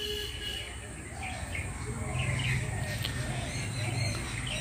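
An Alexandrine parrot perched high in a treetop gives repeated calls that carry faintly from a distance over steady outdoor background noise.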